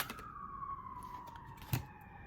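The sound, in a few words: sirens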